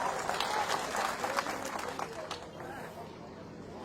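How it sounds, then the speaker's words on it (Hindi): Crowd clapping at a political party rally in Etawah, a scattered burst of applause and crowd noise that tapers off and fades toward quiet at the end. "तो जोर से ताली बजाओगे"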